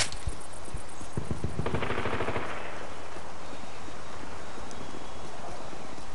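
Rapid automatic gunfire in Call of Duty Modern Warfare 2 on a carnival-themed map, close bursts of shots for the first two and a half seconds, then a fading echoing tail.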